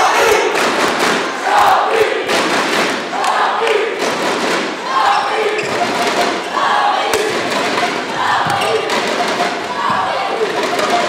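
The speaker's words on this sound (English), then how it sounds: "The crowd started to cheer Chambly." Spectators at a men's doubles badminton semifinal cheer and chant rhythmically for the French club Chambly, a loud, pulsing crowd roar that continues throughout, punctuated by occasional thumps.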